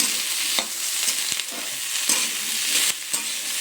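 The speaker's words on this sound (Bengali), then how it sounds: "ওটাই সবজিগুলো ভেজে নিচ্ছি" Beans, onion, cauliflower and potato fry in a little oil, a continuous bright sizzle broken by a few sharp spatula scrapes and clinks, with no talking.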